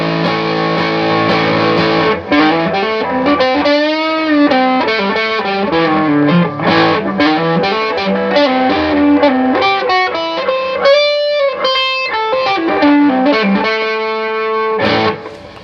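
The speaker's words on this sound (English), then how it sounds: "So the mini humbucker sounds weird with the tube distortion." Distorted electric guitar, a Gibson Les Paul mini humbucker through tube distortion, plays a melodic riff with bends and sustained notes, thick and slightly muddy in tone, steady and loud throughout.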